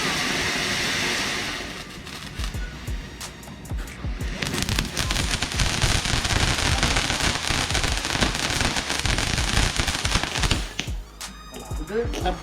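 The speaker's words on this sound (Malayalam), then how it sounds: "ആദ്യം സൈലന്റ് ആയിട്ട് കത്തി പിന്നെ ഒന്ന് പട്ടപ്പടോടായിട്ട് ആയിട്ടുള്ള സാധനമാണ് ഇപ്പൊ കത്തിയത്" A Vishu novelty firework from Kunnamkulam burns quietly with a soft hiss, then breaks into dense, loud crackling that continues for several seconds before fading, with voices nearby.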